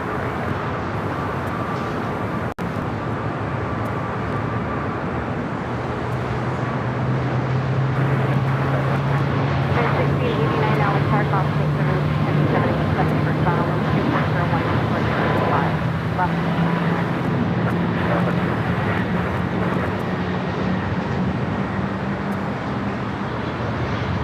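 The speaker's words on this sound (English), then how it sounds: "KLM, it's a 787-9 Dreamliner" A KLM Boeing 787-9 Dreamliner arrives at LAX, its steady jet roar rising and sustained in the distance, with a low engine drone holding throughout and no speech over it.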